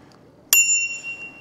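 A single bright ding from the handlebar bell of an Eleglide Mopride 3 electric bike with 29-inch wheels, struck once up close and left to ring out in a clear, slowly fading tone.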